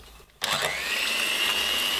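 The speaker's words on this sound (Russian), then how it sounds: "Я сейчас в миску разбиваю яйца, смешиваю с сахаром. Буду смешивать все миксером." Electric hand mixer beating eggs with sugar in a bowl for a strawberry summer pie, starting abruptly after a brief quiet moment and then whirring steadily and loudly, close by, with no talk over it.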